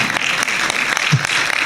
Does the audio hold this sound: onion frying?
no